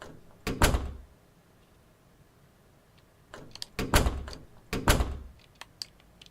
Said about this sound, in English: I heard something being moved.